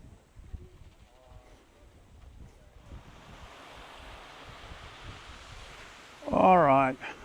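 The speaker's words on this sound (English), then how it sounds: "we're back at this cool water feature, this waterfall where the big giant elephants are" Broad rushing water of a waterfall at an elephant enclosure water feature in Australia Zoo, rising from a faint wash to a steady roar with wind, followed by someone speaking close to the microphone.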